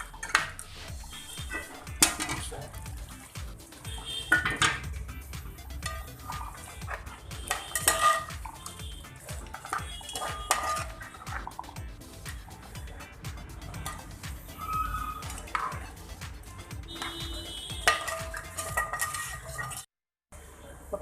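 A spoon stirs a home-style chicken curry in a pot after water is added, giving irregular scraping and metallic clanks against the vessel, close and busy, with a brief drop to silence near the end.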